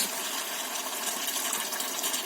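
Pearl River light soy sauce pours into a vegan hot garlic chilli sauce as a steady, close liquid stream that runs unbroken and fairly soft throughout.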